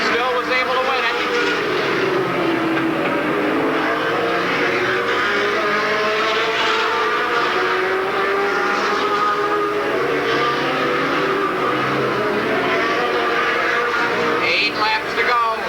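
Late model stock cars roar around an oval track during a 100-lap race, a continuous wash of engine drone with rising and falling pitch as cars pass, under steady announcer commentary.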